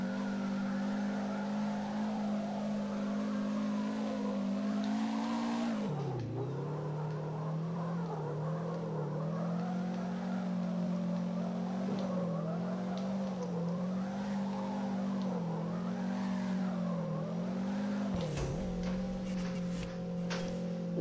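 A Subaru WRX STI drifting in the CarX Drift racing game, with a steady, loud engine drone and tires squealing continuously, its pitch sagging and rising as the car swings through the slides.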